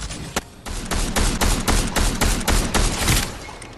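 Rapid bursts of automatic gunfire in a Fortnite Zero Build match, a dense volley of sharp shots repeating in quick succession for several seconds at close range, loud and with no talk over it.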